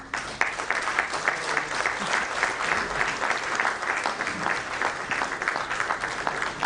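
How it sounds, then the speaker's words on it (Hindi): At a bank officers' association annual general meeting in Mumbai, a large audience applauds, a dense, sustained roll of clapping heard at moderate distance with no speech over it. "तालियों की गड़गड़ाहट होनी चाहिए दोस्तों."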